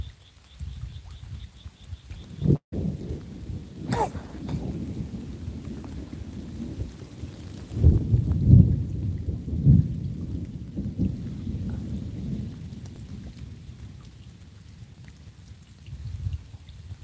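Thunderstorm near the Mississippi River during a fishing outing: steady rain pattering under long, low rolling thunder that swells and fades, loudest midway through. A sharp crack comes early, and no one talks.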